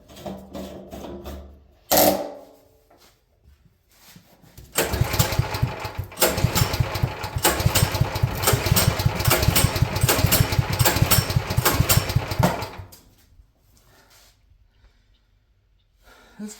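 A long-unused Champion generator sputters briefly, then its small engine catches and runs roughly and loudly for several seconds, chugging and uneven, before dying back to near silence.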